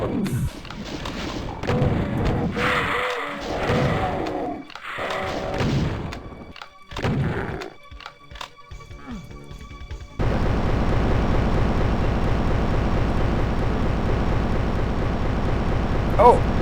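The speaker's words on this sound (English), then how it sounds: "that's the crusher" A crusher trap in a Doom map slams down repeatedly, heavy thuds and crashing impacts among game noise, with someone talking over the first half before a steady loud mechanical grinding takes over.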